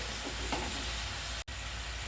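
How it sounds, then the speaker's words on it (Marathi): A steady, broadband bubbling and hissing rolls on throughout, water at a rolling boil in a pot, with a momentary dropout near the end. "पाणी मस्त उकळलेलं आहे"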